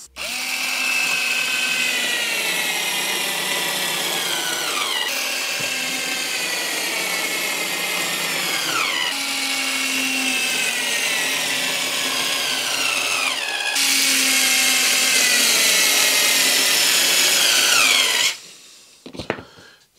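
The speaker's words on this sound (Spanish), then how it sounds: "Ahora vamos a poner dos tornillos en cada uno." A power drill drives screws into wood for a shop-made sliding side pusher, its motor whining in four long continuous runs with rising and falling pitch, close and loud, ending in a few brief knocks.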